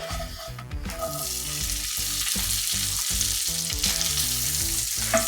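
Two pats of butter sizzle hard in a hot pan, a dense, continuous crackling hiss that stays loud and close from start to finish, with no talking.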